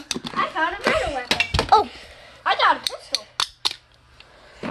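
A pistol fires in the Fortnite video game as a string of sharp, clicky shots spaced irregularly among an excited speaking voice, with small clinking effects mixed in.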